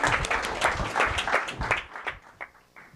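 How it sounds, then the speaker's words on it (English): An audience applauds at a startup accelerator demo day, with dense clapping that fades after about two seconds into scattered claps and a few faint voices. "Big round of applause."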